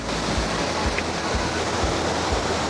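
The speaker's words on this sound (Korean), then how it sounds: "여기 작은 폭포가 하나 있고요. 그리고 저 옆에 큰 폭포가 하나 더 있습니다." A small waterfall at a natural attraction in Valencia, Negros, pours with a steady, loud, close rushing hiss, with no voices over it.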